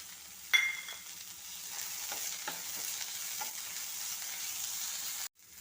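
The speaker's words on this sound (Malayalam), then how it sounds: "സവാള ഒന്ന് ബ്രൗൺ നിറമാവുന്നവരെ ഇളക്കിക്കൊണ്ടിരിക്കണം. ഒന്ന് വഴറ്റിയെടുക്കണം." Onions being stirred and sautéed in a pan for a Kerala theeyal, a soft steady frying hiss with occasional scrapes and clinks of the spoon, fairly quiet and close, no talking.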